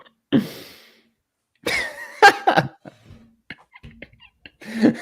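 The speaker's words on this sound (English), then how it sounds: "I got a cough." A few separate coughs with short pauses between them, close and fairly loud, followed by quieter rustling and small noises.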